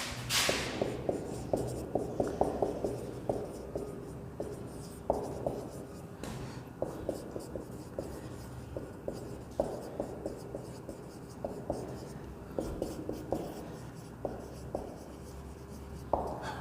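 Pen scratching an address onto paper, a continuous close run of quick strokes and taps repeating steadily for over fifteen seconds with no talk.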